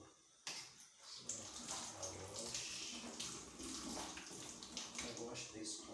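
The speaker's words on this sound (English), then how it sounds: "I'll wash this onion, then cut it." An onion is washed under a running kitchen tap, with a steady close splash of water running for several seconds. Speech may be faintly mixed in.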